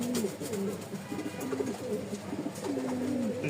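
Several pigeons cooing at a pigeon farm, repeated low rolling coos overlapping one another against a steady background hiss, near and moderately loud.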